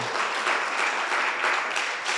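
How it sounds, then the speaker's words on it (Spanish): A church congregation claps steadily and fairly loudly, a dense continuous wash of hands with no voices over it. "¿Cuánto le dan un aplauso a Dios?"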